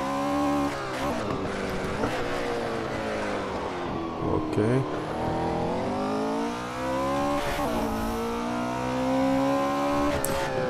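A 1968 Porsche 908 LH race car engine revs steadily and loudly, its pitch rising and falling through gear changes on the Nürburgring, with a brief spoken word over the roar.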